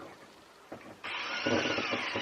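Power drill boring holes to mount a kitchen shelf in a small rented home in London, a steady whining drone starting abruptly partway through and running loud to the end.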